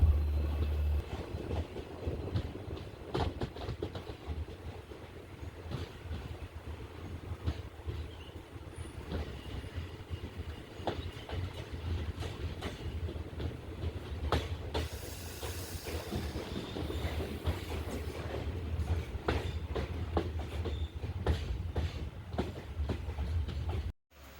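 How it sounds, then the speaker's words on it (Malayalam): A diesel-hauled train rolls into Punalur railway station on the Kollam–Sengottai line, its low rumble steady and continuous, with faint clicking wheels and hiss from on board. "സ്റ്റേഷനിലേക്ക് അങ്ങനെ ട്രെയിൻ കയറുകയാണ്"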